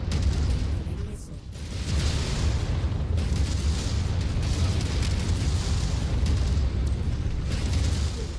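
Missile explosions in MechWarrior 5, a dense continuous roar of blasts and rumbling detonations with a few sharper bursts, loud and sustained throughout.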